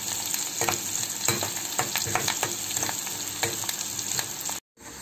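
Cauliflower and tomato curry ingredients frying in a pan: a steady, close sizzle and crackle with scattered stirring scrapes and pops, alone without talk, ending in a brief cut to silence near the end.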